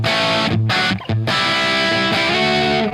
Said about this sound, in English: that's kind of desert island level distortion